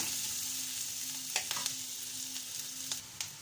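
Garlic and onion fry softly in a pan, a low steady sizzle with a faint hum beneath, broken by a few close clinks and scrapes of stirring, quiet and without speech.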